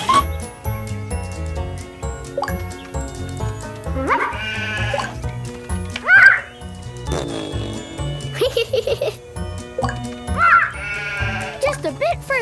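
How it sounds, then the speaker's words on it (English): Cartoon sheep bleat in a PAW Patrol Academy video game pasture, several wavering bleats standing out over cheerful background music and a character's chatter. "I've spotted four sheep in this pasture."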